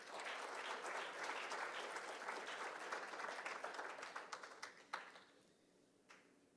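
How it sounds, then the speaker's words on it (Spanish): Church congregation applauding during a sermon, a full round of many hands clapping that thins into a few scattered individual claps and then fades out near the end. "Dele un aplauso al Señor"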